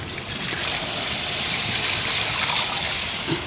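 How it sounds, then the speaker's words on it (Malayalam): A steady rush of water pours into a pot of chicken and potato curry for a few seconds, a continuous splashing gush with no voices. "ഇതിലേക്ക് കുറച്ച് വെള്ളം ഒഴിച്ചു കൊടുക്കാം"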